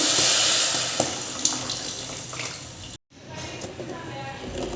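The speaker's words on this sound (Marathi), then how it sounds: "त्यात आपण साखर जितपत बुडेल इतपतच पाणी टाकायचं" Water is poured into a pot of sugar to make syrup for gulab jamun. A close, steady splashing stream runs with small drips, breaks off briefly, then continues, with a voice alongside.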